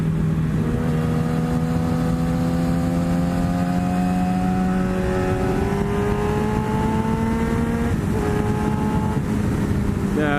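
Yamaha FZ1 motorcycle engine under way, a loud continuous drone rising in pitch through the gears with a brief shift near the eight-second mark, wind noise throughout and no talking.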